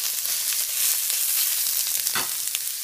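A 200-gram steak sizzling hard in a hot frying pan, a bright, constant crackling hiss up close with one brief scrape or shift near the end and no voices.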